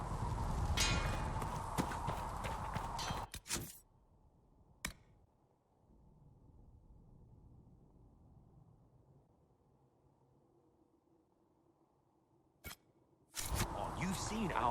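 Horse hooves clip-clop at a walk in the video game Dragon Age: Inquisition, a few faint scattered steps between louder bursts of game sound at the start and end.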